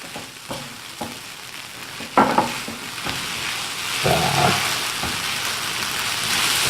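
Rice and shrimp stir-frying in a pan, a constant hissing sizzle broken by scraping stirs and a few louder clatters, nearby and without speech.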